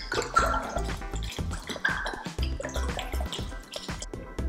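Sauvignon Blanc white wine glugs and splashes into a sangria pitcher up close, an irregular run of liquid gurgles and drips that continues throughout.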